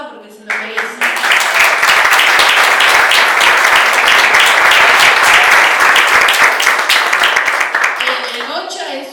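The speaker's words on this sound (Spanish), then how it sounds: "Aplaudan porque se lo merecen." Audience applause for the filmmakers at a film-and-diversity screening debate, a loud, dense round of many hands clapping that starts suddenly and continues steadily for several seconds, fading slightly toward the end.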